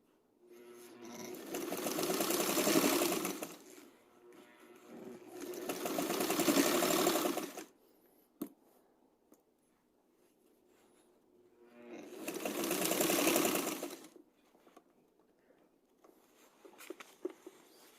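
A sewing machine stitches french seams on set-in sleeves in three loud bursts of rapid, even whirring, each a few seconds long, separated by quiet pauses with a few faint clicks and handling sounds.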